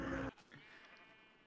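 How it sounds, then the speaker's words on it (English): Sheep bleating in a video game, one short loud bleat at the start that cuts off into faint room noise. "I wish these sheep would stop spawning here."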